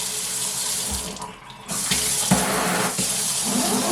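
Water gushes from a newly plumbed extendable faucet during a home renovation, a steady close rushing stream that briefly dips and then surges back to full flow.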